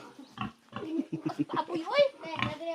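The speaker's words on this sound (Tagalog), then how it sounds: "Tulog yung baboy." Pig grunting on a farm, a series of short, uneven snorts and grunts at close range, mixed in with people talking nearby.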